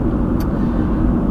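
Steady low engine and road rumble of a car driving through the town of Lumberton, North Carolina, constant and fairly loud with no talk over it.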